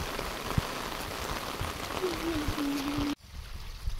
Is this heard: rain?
yes